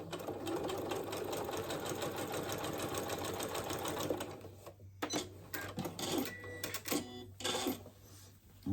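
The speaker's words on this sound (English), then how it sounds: "And then sew up your little spot." A home sewing machine runs steadily while stitching a shirt seam, a continuous fast motor whir and needle patter for about four seconds, then stops and restarts in short bursts with small clicks and handling noises.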